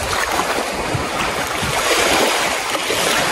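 Strong, churning sea water surges against a seawall at a baywalk after a typhoon, a steady broadband wash of waves with wind noise, close and loud throughout with no speech.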